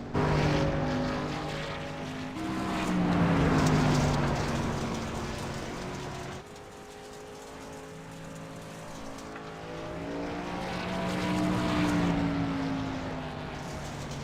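A pink Bass Pro Shops Tracker racing pickup truck runs a qualifying lap in the Great Lakes Truck Series. Its engine roars loud and near, pitch climbing and falling through gear changes, dips abruptly, then swells again as it passes, with no talk.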